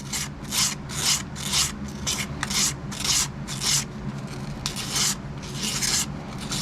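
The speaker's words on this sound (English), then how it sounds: "So, take the sandpaper, kind of, you know, go over it a little bit" Sandpaper rubbed back and forth over torn pop-up travel trailer canvas, a steady run of about a dozen close, raspy scrubbing strokes in an even rhythm with no talking.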